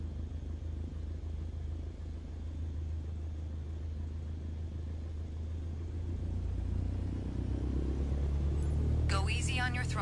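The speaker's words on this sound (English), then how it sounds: "gently increase throttle to get the aircraft moving" A light aircraft's engine hums at idle with a low, steady drone, then builds gradually as the throttle is eased forward to begin taxiing, and a voice speaks briefly near the end.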